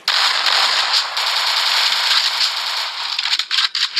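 Rapid gunfire from an MB40 weapon in a mobile shooter game, a dense continuous crackling burst that runs loud and steady before breaking into choppier shots near the end.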